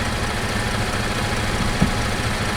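A car engine idling steadily at close range, with a faint, brief bump of throttle and a dull thump partway through, no talking.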